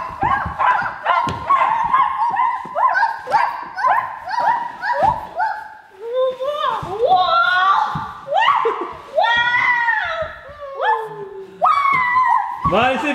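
A person imitates a dog chasing its tail with a long, loud, close run of yips, whimpers and short bow-wow barks, rising and falling in pitch for several seconds.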